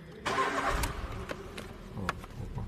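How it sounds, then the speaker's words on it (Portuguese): A car engine cranks and catches, a short loud starter whir followed by the engine settling into a rough idle with a few ticking knocks, close by and with no talking. "vou funcionar o carro"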